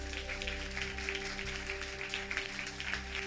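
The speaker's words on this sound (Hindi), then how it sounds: "एक बार जोर से ताली बजाओ।" A church congregation claps together in a rhythmic, fairly steady burst over sustained keyboard music.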